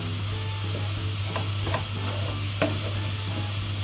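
Pieces of beef tail fry in oil in a pan, a steady hiss under a low hum, broken by a few clicking stir scrapes as the meat is turned.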